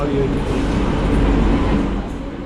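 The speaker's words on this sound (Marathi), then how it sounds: "आली बघा ही आहे Karmali L T T express" A heavy, low rumble of the Karmali–LTT Express rolling into a station close by, steady and loud, with voices mixed into the noise.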